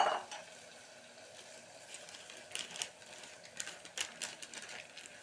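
Onions, chilli, ginger, garlic and salt are stirred in a pan for a sabji, giving quiet scraping and clinking of a utensil against metal, with a few sharper taps toward the end and no talk.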